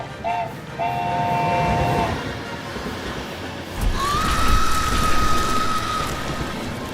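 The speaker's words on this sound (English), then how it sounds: "the night train suddenly appeared" A night train pulls into a station in a horror animation, with a steady rumbling roll and brief squealing tones early on, then a long high brake screech from about four seconds as it arrives, loud and close.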